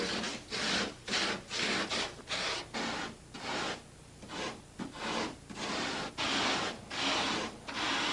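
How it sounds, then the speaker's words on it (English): Light polyurethane foam is carved into rough canyon-cliff shapes for a film miniature, making steady, rhythmic rasping strokes that repeat about once or twice a second, close and even, with no voices. "Greg has model maker Mike Hosh carve the rough structures of the canyon cliffs out of 8-foot pieces of foam"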